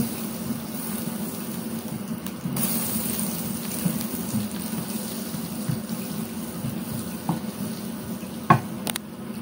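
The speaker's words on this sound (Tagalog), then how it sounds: "Tapos ilagay ko na ang butter. Tapos i-melt lang po natin." Butter melts in a hot pan, giving a low steady sizzle and hiss with faint clinks and a sharper knock near the end, and no voices.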